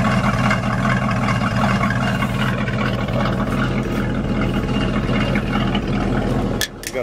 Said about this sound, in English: you can't hear nothing but the friggin' tires on this thing